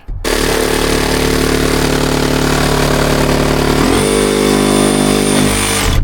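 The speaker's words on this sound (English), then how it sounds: "actually you can plunge cut with a sawzall" A Sawzall reciprocating saw plunge-cuts through wall sheathing with a loud, steady motor buzz that shifts pitch partway through and continues unbroken to the end.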